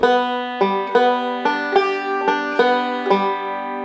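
A bright banjo plays a quick repeating hornpipe phrase with a lilting, uneven rhythm, notes ringing together, close and clear with no talking.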